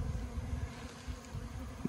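Bees flying around hives during a small fall swarm from a requeening, a steady low insect hum with fluctuating intensity, moderately near and fairly quiet throughout.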